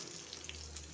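Chopped onion sizzles steadily in a hot pan while a fish-head chyachra is being cooked, a soft even hiss that runs for a moment with no voices.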